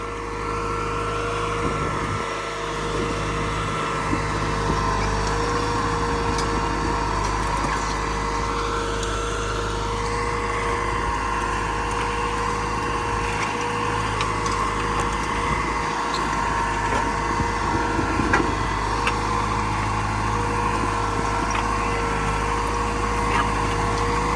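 A Ford 7740 tractor engine pulling a 4/16 plough drones steadily and loudly throughout, a continuous low mechanical hum with occasional slight strain and rattle.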